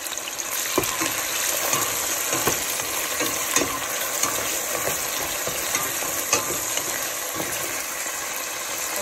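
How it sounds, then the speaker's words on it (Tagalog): Onion dropped into hot oil for ginisang ampalaya, a loud, dense, steady sizzle and crackle of frying that fills the whole stretch, with faint occasional ticks and no talking. "Ilagay ko na po ang sibuyas nung mainit na ang mantika"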